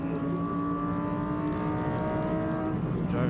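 A PK Carsport Audi race car at Zolder circuit during a Belcar endurance round, engine droning loudly and steadily as it passes, with a commentator talking over the sound.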